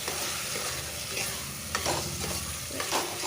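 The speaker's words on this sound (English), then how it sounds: "this beetroot I am dropping it in. And I will stir this very well too." Beetroot strips, cut and parboiled, frying in a pan with masala, stirred well: a steady close sizzle under scraping stirs, with a few louder spoon strokes against the pan.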